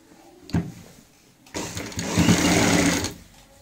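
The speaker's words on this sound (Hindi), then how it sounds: "पूरी गोलाई में ऐसे सिलाई लगानी होती है" A sewing machine stitching around the round fabric cover of a stool made from a waste bucket: a short burst, a pause, then a loud close run of rapid stitching lasting over a second before it stops.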